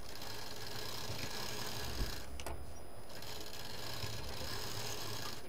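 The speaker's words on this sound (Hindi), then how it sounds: "सिलाई कर देंगे।" A sewing machine stitches D-loops onto a zip fabric piece, its steady, close motor whir running continuously with one brief dip in the middle.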